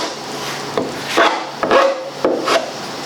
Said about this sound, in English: And I'll always go back with sandpaper